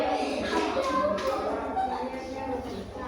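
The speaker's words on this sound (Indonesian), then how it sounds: "tepuk tangan untuk kelompok 1" Elementary classroom of fifth graders clapping in steady, rapid rhythm for a short stretch, with children's voices and talk mixed underneath throughout.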